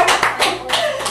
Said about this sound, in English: This is the one we're clapping for.